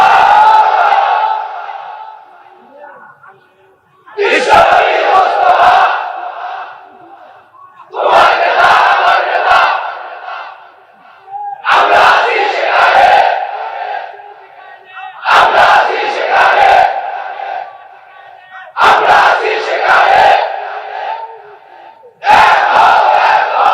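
A large crowd at a Bengali waz religious gathering shouts the slogan Allahu Akbar in loud, forceful bursts, about six chants repeating every few seconds with brief quieter gaps between them.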